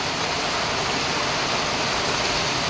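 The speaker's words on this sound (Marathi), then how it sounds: "भयानक, एकदम भयानक पाऊस पडतोय." A heavy Mumbai monsoon downpour gives off a dense, unbroken rushing hiss. It is close and steady from start to end, with no talk over it.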